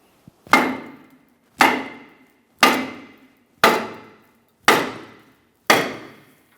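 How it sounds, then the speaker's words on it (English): Hammer striking the brake rotor of a 2008-2017 Mitsubishi Lancer, six sharp metallic blows evenly spaced about a second apart, each ringing briefly before fading, loud and close with no talk. "we're going to have to tap on it with a hammer"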